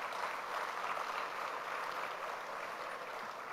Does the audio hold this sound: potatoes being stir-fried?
no